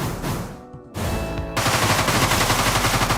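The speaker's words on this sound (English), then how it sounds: "Let's get out the SMG." SMG fire in the video game Deadbolt erupts after a short quiet gap as a dense, rapid stream of loud, close shots that continues to the end.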